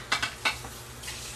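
Metal pot lids being handled in a home kitchen while cooking cabbage, giving three quick clattering clinks close by, followed by a fainter knock, over a low steady background hum.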